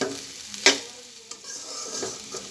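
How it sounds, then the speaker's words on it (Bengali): Onions for a chicken roll filling are stirred in a pan over a continuous sizzle, with a couple of sharp utensil scrapes against the pan, close by and without speech. "একটু এখন নেড়ে চেড়ে নামিয়ে নেব"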